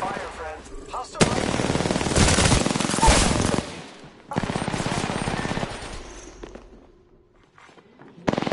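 Automatic gunfire from a shooter video game on PS4 comes in long rapid bursts. The loud sustained volleys are separated by short pauses and a quieter stretch near the end.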